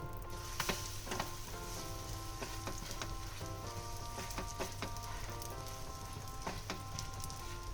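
A cucumber chilla made with wheat flour frying in a pan over medium heat, giving a soft, steady sizzle with faint crackles throughout and no talking.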